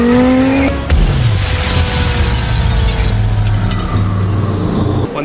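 Jannarelly Design-1 sports car engine revving and accelerating hard, a loud, close, continuous roar whose pitch drops after a sharp gear change, then holds steady before a final shift near the end.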